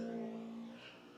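Formula Student race car 314 running the skid pad, a steady engine drone holding a constant pitch that fades slightly toward the end, heard from a distance without any talk.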